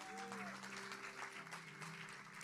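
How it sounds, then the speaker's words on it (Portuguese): Church congregation applauding to welcome a guest to the pulpit, a steady wash of many hands clapping, fairly quiet and distant, with faint tones and a voice murmuring underneath. "Uma salva de palmas."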